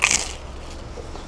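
A bite into the crunchy back crust of a pizza slice gives one sharp, close crunch at the start, then quiet chewing.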